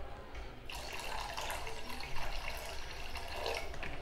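Drinking water runs from a tap or is poured into an alkaline cup, a steady broadband splashing hiss that starts after a brief quiet moment and continues close up with no talking.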